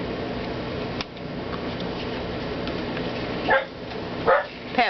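A guard dog barks several times in a room near the end of a stretch of steady fan-like hum, the barks sharp and fairly close.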